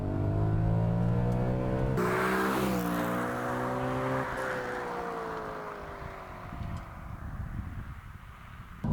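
A B7 Audi RS4 engine revving hard toward its 8,200 RPM redline, its pitch climbing steadily through the gears, then easing off and fading into rumbling road noise.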